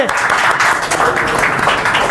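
A crowd claps in applause at a church gathering honouring guests in Gouripur, a dense, continuous patter of many hands that stays loud and close for the whole moment.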